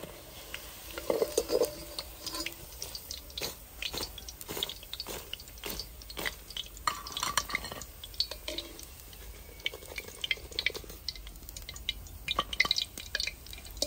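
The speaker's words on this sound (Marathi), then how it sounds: "आता बाकीचे पीस पण आपण अशा प्रकारे तळून घेऊया।" Paneer pieces frying in hot oil, giving a steady close crackle with scattered sharp pops and drips throughout, moderately loud with no voices.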